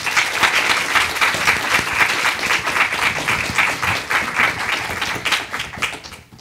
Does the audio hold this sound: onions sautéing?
no